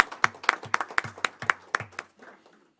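Council meeting audience applauding at a city hall session, a short round of sharp, evenly spaced claps that fades out after about two seconds, heard alone without talk.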